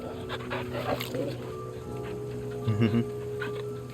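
Torgal, the dog companion in Final Fantasy XVI, pants and whimpers softly at close range over a quiet, steady game ambience.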